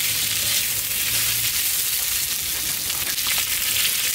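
Steady, bright sizzling of onions frying in a hot pan, a continuous crackling hiss with no talking.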